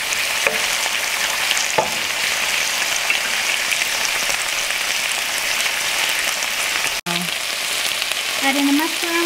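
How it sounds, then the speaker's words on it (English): Udon noodles stir-frying in a hot pan give a steady, loud sizzle with crackling hiss, stirred continuously, plus a brief clatter near the end. "Stir fry that for about 2 minutes."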